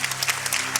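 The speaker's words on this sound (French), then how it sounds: "On peut applaudir Lucas" A congregation at a church baptism service claps in brief, steady applause, a dense close patter of many hands with no voices.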